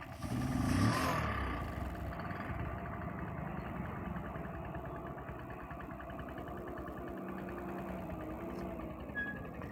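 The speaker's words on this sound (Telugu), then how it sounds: "స్టార్ట్ చేద్దాం బండి." A motorcycle engine starts with a brief loud rise, then settles into a steady, close idle that runs throughout with a constant low rumble.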